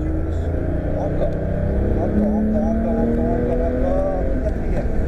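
Porsche 997 GT3 engine on a track pulling hard in gear, its steady rising whine climbing in pitch as it gathers speed, loud and close, with an instructor talking over it throughout.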